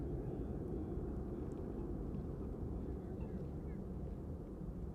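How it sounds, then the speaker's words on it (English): An Embraer airliner takes off from Amsterdam Schiphol Airport, its engines a loud, steady broadband roar that sounds fairly distant and continues unbroken throughout. "It is like an Embraer."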